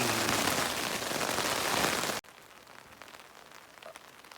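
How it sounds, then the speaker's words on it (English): Heavy rain pours loudly on the John Muir Trail in a dense, steady hiss, then cuts off abruptly midway to quieter patter and drips. "It is raining like hell."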